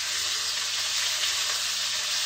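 Fish and okra with tomato stir-frying in a pan for Assam fried fish, giving a close, steady, dense sizzle with faint stirring and no talk.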